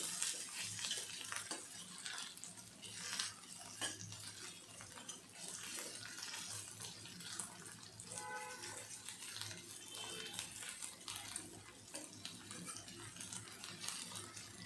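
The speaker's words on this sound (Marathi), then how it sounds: "आता आपण हे परतून घेऊया कांदा याच्यामध्ये." Chopped onion sautéing in a pan, a soft continuous sizzle with scraping and stirring strokes of a spoon, fairly faint and close, with no talk.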